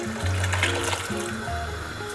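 Boiling water is poured into a bean minestrone mixture in a pot. The short, gurgling pour runs at moderate loudness over a low steady hum, with no talk.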